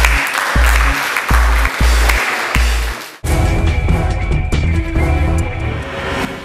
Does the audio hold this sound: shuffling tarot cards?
no